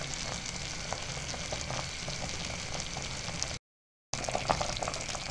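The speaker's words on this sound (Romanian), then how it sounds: "Au trecut 20 de minute de când dulceața noastră fierbe" A steady bubbling simmer of thick apricot jam in a pot, continuous and close, broken by a brief moment of silence.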